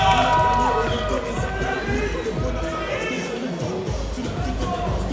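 Audience at a Musclemania Paris bodybuilding competition in 2017 applauding and cheering as a contestant is introduced: a dense, steady crowd roar with clapping that runs throughout, under an announcer's voice.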